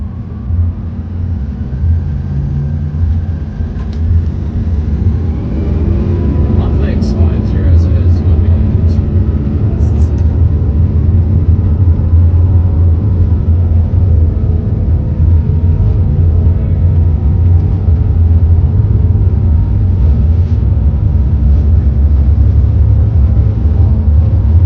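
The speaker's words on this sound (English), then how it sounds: "so here's the takeoff. On runway 34 right." Airliner engines spool up during the takeoff roll on runway 34R at Seattle, heard from inside the cabin as a loud, steady low roar and rumble that builds and then holds, with faint rattles over it.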